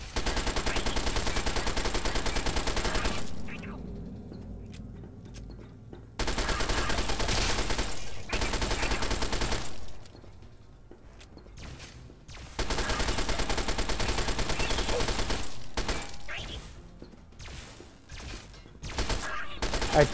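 Heavy gunfire from the Fallout 3 video game comes in three long, loud sustained bursts of rapid shots, separated by quieter gaps with scattered single shots and echoes.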